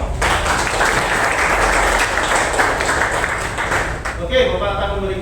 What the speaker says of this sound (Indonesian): silakan tepuk tangan untuk diri kalian semua.